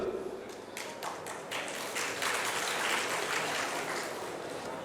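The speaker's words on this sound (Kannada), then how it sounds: "ಇಷ್ಟೇ ಎಲ್ಲ ಚಪ್ಪಾಳೆ, ಇದಕ್ಕೆ ಕಾರ್ಯಕರ್ತರಿಗೆ ಗೌರವ ಸಿಗೋ ತರ ಚಪ್ಪಾಳೆ ಹೊಡಬೇಕಾಗಿದೆ." Audience applause at a political gathering in Davanagere, Karnataka, honoring party workers: a steady wash of many hands clapping, fairly close and sustained throughout, with a few sharper claps standing out early.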